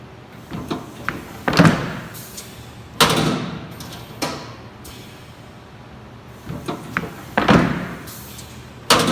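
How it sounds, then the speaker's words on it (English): A semi-automatic plate shifter on a Waterlink 28 cubic foot air-over-hydraulic filter press moves the gasketed plates, giving a series of spaced heavy thuds and clacks with quieter mechanical rattles in between. "It comes with a semi-automatic plate shifter as we see here"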